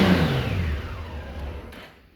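A Honda GL1800 Goldwing motorcycle engine revs up and then winds down, a loud close mechanical roar that gradually fades as the revs drop, with no voices over it.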